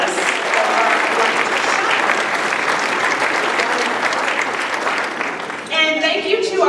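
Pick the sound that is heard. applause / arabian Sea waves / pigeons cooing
applause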